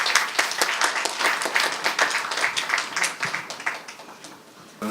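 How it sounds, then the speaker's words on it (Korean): Audience applause welcoming a lecturer from the Ministry of Unification at an education workshop, dense steady clapping from a crowd for about five seconds before fading out near the end. "박수로 맞이해 주시기 바라겠습니다"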